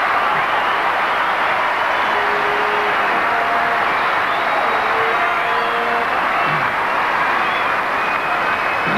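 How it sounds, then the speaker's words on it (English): A packed crowd at the 1986 Davis Cup tennis final, Pat Cash against Mikael Pernfors, roars loudly and continuously for Australia, a dense wall of cheering with no pause. "And again, the crowd goes bananas."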